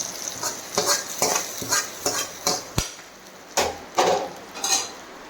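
Onions frying in a pan for Kerala dal curry, stirred in about a dozen sharp rhythmic scrapes and clanks against the metal over a soft sizzle, close up and without speech.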